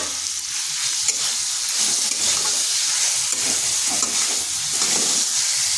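Chopped tomato, ginger paste and spices frying in a pan, producing a continuous loud sizzle and hiss with intermittent stirring and scraping, no voices.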